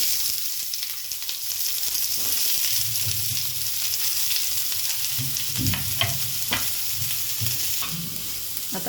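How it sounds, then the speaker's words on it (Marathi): Onion fries in hot oil until reddish for a masala paste, producing a constant hissing sizzle with several louder spatula stirs and scrapes toward the end, close and continuous. "आता कांदा लालसर भाजून घेणार आहे"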